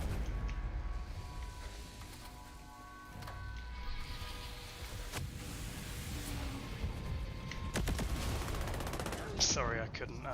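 Gunfire and sniper shots ring out during a raid in the video game Breakpoint, repeated sharp reports and bursts over a steady bed of game noise, with a louder cluster of shots near the end.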